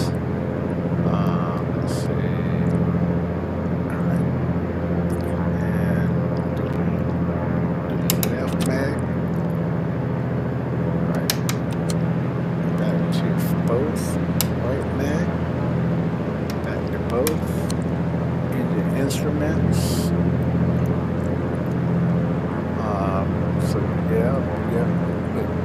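A Cessna 206 StationAir's piston engine drones steadily through a simulated magneto check, a continuous close hum with faint mechanical clicks, while someone talks over it.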